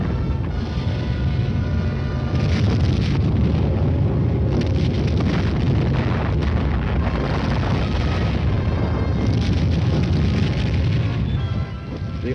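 Cold War artillery barrage of non-atomic fire supporting an armored division, a dense sustained roar of overlapping blasts and rumbling booms that never lets up, loud and muffled like old film sound.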